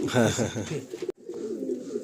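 Old-line Madrasi pigeons coo in a low, throaty rolling pattern, a close and fairly loud burst that breaks off briefly and then resumes, with possible murmured speech mixed in.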